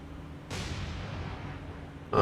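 Warship guns fire in the naval combat game War on the Sea: one heavy report hits at once and rumbles away slowly, and a second sharp blast cuts in right at the end, both fairly distant and subdued.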